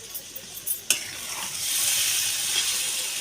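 Spice paste for a bori dish frying in oil, a few light clinks and stirs, then a steady broad sizzle that swells and holds loud and close for the rest of the clip.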